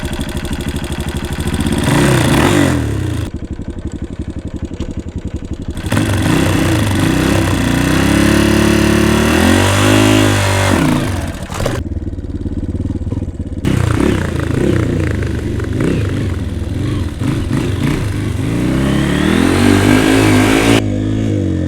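A dirt bike engine ridden by a first-time rider revs up and down repeatedly, loud and close, with surging throttle bursts, brief drops toward idle and some mechanical clatter, no speech.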